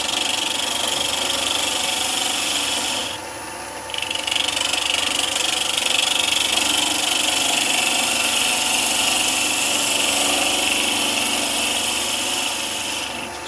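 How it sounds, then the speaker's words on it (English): Wood lathe spinning an offset pendant while a small bowl gouge takes a light cut, producing a continuous loud motor hum with a scraping hiss that dips briefly and then resumes steadily, with no voices. "So we're going to go back with a gouge, so back with a small bowl gouge. A little bit of speed now."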